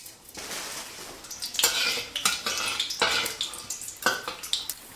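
Rock sugar stirred in hot oil in a wok, with repeated scraping and clinking of a spatula against the pan in uneven strokes, close and moderately loud, with no talk.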